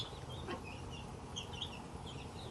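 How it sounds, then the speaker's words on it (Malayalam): A newly bought rooster and hens clucking in a rainy farmyard, with soft, scattered clucks over a constant low background of rain and ambient noise, fairly faint and somewhat distant. "ഇത് പുതിയ പൂവനാണ്, എനിക്ക് ഇഷ്ടപ്പെട്ടിട്ട് വാങ്ങിയ പൂവന്."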